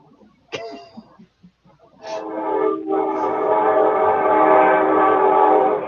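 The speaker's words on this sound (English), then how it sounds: "So many damn trains." Trains rolling past nearby: a short horn blast, then from about two seconds a loud, sustained rumble and clatter of rail cars that holds steady to the end, with a brief cough early on.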